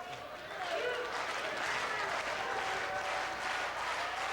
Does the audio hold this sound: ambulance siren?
no